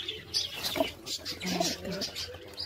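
Soft cooing from pet pigeons sounds a few times in a quiet outdoor setting, with faint chirps and rustling around them.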